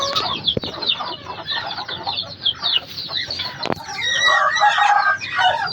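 A hen clucks repeatedly, with a rooster-like crowing call rising near the end. Busy, close farmyard fowl sounds with no talking.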